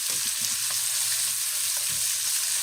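Green beans and onions sear in a hot pan while being stirred, a loud continuous hiss broken by soft scraping and tossing sounds, close and without talk.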